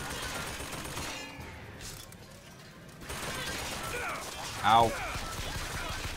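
Bursts of turret gunfire in BioShock Infinite crackle through a busy game soundscape, with a quieter lull in the middle and a sharp sweeping zap near the end; a player briefly cries out.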